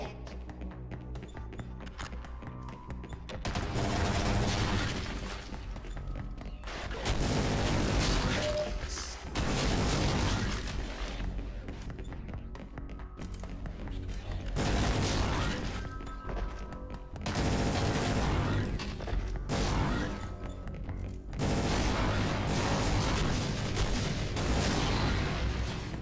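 Explosions and gunfire from the video game Brutal Half-Life pound almost continuously, loud dense volleys of rapid shots and booms with brief lulls between heavy bursts.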